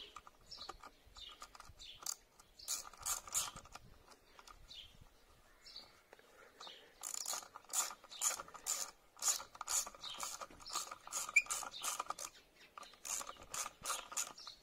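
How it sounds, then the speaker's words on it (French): A ratchet tightens screws on a scooter wheel rim, sped up, giving rapid, faint mechanical clicking bursts in uneven runs that grow busier in the second half, close but quiet. "On va passer en accéléré le vissage."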